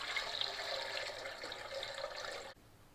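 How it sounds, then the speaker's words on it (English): Steady rushing of water pouring into a pot of eggs, a continuous splashy stream that cuts off abruptly near the end. "I have 5 eggs and I'm going to add water to that."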